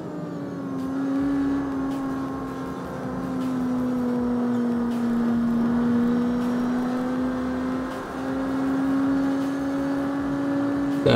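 Game car engine in CarX Street holding a steady drone with rising and falling revs, loud and continuous throughout, with no talk over it.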